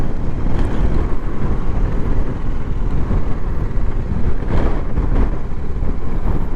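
Strong, steady wind buffeting the microphone on a BMW G310GS motorcycle ride on the Jurassic Coast, a dense low roar with gusty swells throughout and no voices.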